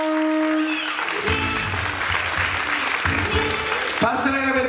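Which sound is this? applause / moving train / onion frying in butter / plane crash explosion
applause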